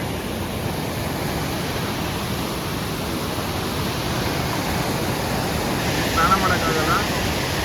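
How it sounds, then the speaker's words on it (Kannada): Forceful river water rushes past at the Kottiyoor temple, making a loud, steady broadband roar that stays close and constant throughout, with no voices over it. "ನೀರು ಎಷ್ಟು ಫೋರ್ಸ್ ಇದೆ ಅಂದರೆ ಅಷ್ಟು ಫೋರ್ಸ್ ಇದೆ"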